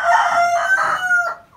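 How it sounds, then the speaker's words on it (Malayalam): A black karinkozhi chicken with a comb crows once, a loud, close, drawn-out cock-a-doodle-doo that fades at the end. No one speaks. "ഇതാണ് ചൂട്ടുള്ള കരിങ്കോഴി"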